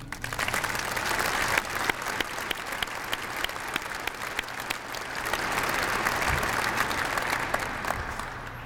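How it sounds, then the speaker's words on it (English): Sustained round of applause from an audience at a U.S. Air Force change of command ceremony for the 60th Air Mobility Wing at Travis Air Force Base, dense and even, heard alone. "may we have a round of applause to thank this incredible team for all their hard work and efforts"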